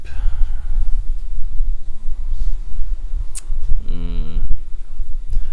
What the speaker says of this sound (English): There's that sheep.